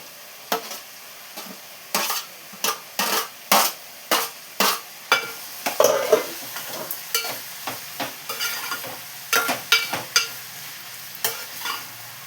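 Tomatoes fry in a pan with a low sizzle while a utensil stirs, knocking the pan in sharp, fairly regular scrapes and clacks, close and clear with no talking.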